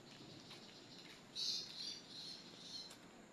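Faint bird calls chirp a few times against a quiet outdoor background, with one brighter burst of chirping near the middle.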